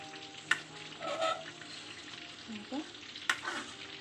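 Chicken roasts in hot oil in a pan with a steady soft sizzle, while a spoon scrapes and ladles the oil over it in a few sharp clinks; faint and close.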